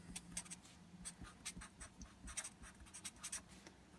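Pen or pencil scratching on paper in short, quiet strokes with brief pauses between them, close up and alone.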